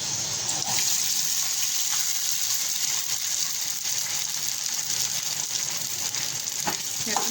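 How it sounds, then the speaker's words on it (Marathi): Sago pearls tipped into a hot tempering in a pan for sabudana khichdi, a loud, constant close-up sizzle with faint stirring scrapes and no voices. "आता आपण लगेचच याच्यामध्ये हे साबुदाणे घालत आहोत."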